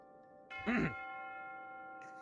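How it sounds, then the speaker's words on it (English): An evening bell rings once in a VR roleplay scene, a bright chime with sustained tonal overtones that swells briefly and then lingers, ringing on faintly under a quiet steady background. "would you hear that? It's the evening bell."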